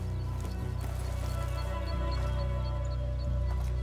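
Horses in an enclosure in the game A Plague Tale: Requiem, heard as a steady, dense bed of hoof clip-clops and stable activity layered over a low continuous drone, with no pause throughout.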